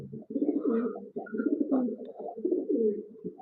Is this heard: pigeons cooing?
yes